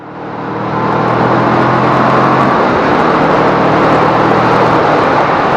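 A Kawasaki Vulcan S motorcycle engine holds a steady drone around 4,000 revs at road speed, loud and constant with wind rush and no talking.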